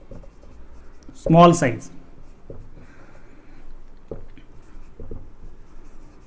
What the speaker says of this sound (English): I'll write those points here.